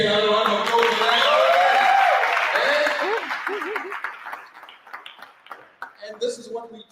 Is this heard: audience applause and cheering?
yes